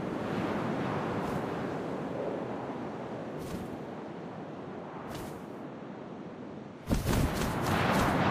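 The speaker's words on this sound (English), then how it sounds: "First, all I heard was the wind." Wind blowing steadily in the video game What Remains of Edith Finch, a constant, full rushing roar with gusting swells, rising sharply louder near the end, with no talking.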